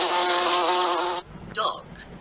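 A steady, close insect buzz drones for about a second, then stops, followed by brief scattered noises.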